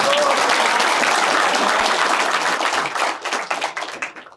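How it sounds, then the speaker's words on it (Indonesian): A youth gathering audience applauds a 17-year-old twelfth-grade participant at a meeting with Anies Baswedan: dense, loud clapping from many hands fills the room, then thins into scattered claps and fades out near the end. "Boleh dong kasih tepuk tangan."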